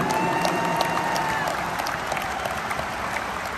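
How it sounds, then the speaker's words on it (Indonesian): Crowd applause at a large political rally in Indonesia, a steady, dense wash of clapping with faint cheering throughout, without any speech over it. "Tepuk tangan buat semua yang hadir di sini."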